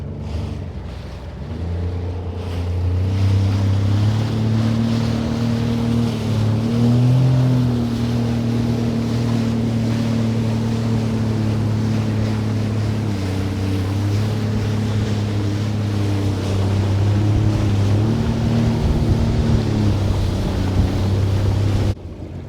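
A Sea-Doo Fish Pro personal watercraft cruises on the open sea, its engine holding a loud, steady droning hum that rises and dips slightly with throttle, mixed with rushing wind buffeting the microphone and water splashing.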